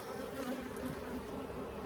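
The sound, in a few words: honeybees buzzing in a Layens hive box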